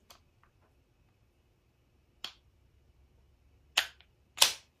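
A Byrna launcher fires at a chronograph for a feet-per-second test: three sharp, close pops spread across a quiet stretch, with a faint isolated tick at the start.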